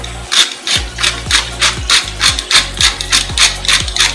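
A pepper mill grinds black pepper into mushroom soup, making about ten crisp, rasping turns in a regular rhythm, loud and close with nothing else heard.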